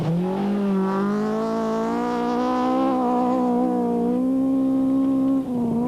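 A Toyota Corolla rally car on Bridgestone tyres at the 1999 Gauteng Rally holds a loud, steady engine drone that rises slightly in pitch, close and continuous for several seconds.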